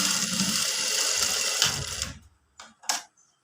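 Sewing machine stitching a blouse lining: a steady, fast motor whir runs continuously for about two seconds, then stops, followed by two short separate bursts of stitching.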